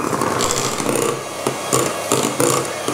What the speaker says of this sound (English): And then give it a final whisk.